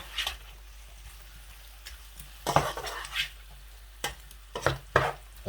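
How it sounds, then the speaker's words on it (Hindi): Food being stirred in a pan during a quick home dinner, with a steady faint sizzle under several brief scraping and clattering strokes that come in short bursts, close by, with no talking. "अभी इनको एक बार अच्छी तरह हिलाकर"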